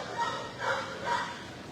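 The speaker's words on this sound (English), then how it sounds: "Number one, he's barking at me." A skinny old dog, about ten years old, gives three muffled barks in a steady rhythm, fairly close, over a faint background hiss.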